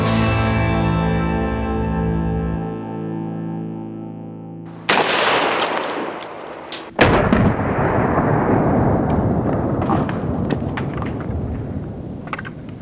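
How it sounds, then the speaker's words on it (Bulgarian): Shotgun fired at a target with a No. 11 Shedit 30 g wadded cartridge, outdoors on a shooting ground: after a held musical tone, a sharp loud blast, then a second louder report followed by a long rumbling, noisy decay. "Първият изстрел, който произведахме по мишената, беше с патрон 11 номер, Шедит, 30 грама, тапа"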